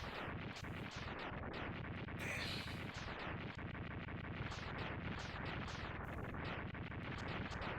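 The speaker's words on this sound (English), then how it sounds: "What was that explosion?" Dense, continuous blasts and crackling rumble from an explosion in the Mega Man X3 video game, with repeated sharp bursts layered over a loud, sustained roar that fills the whole stretch.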